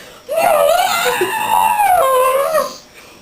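A person's voice imitates an elephant's trumpeting call: one loud, drawn-out, wavering cry lasting a few seconds, close up, with no other sound around it.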